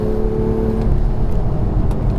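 A BMW M2 powers out of a corner at Laguna Seca, its engine note loud, close and sustained as it accelerates, with a steady low drone and rising harmonic whine throughout.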